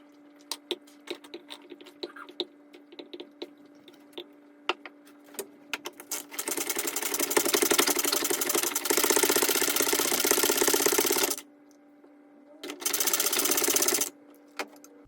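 Electric food chopper whirring through smoked salsa ingredients in short bursts, a loud motor buzz running several seconds, stopping, then a second shorter burst, with quiet clicks and handling between.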